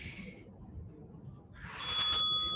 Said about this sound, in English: It's our halfway bell.